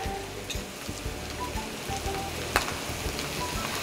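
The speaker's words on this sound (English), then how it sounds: "It's gonna sizzle a little bit." Soy sauce, a tablespoon of it, sizzling in a stir-fry pan with green beans and softened corn, giving a steady crackling hiss with light spattering pops throughout and one sharper pop partway through.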